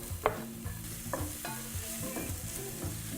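Garlic hits olive oil with browned onions and sizzles steadily in a pan, close by, with a spoon scraping and stirring in a few clear knocks across the short stretch.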